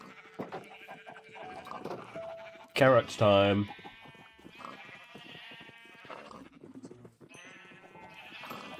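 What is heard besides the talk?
sheep bleating in Minecraft video game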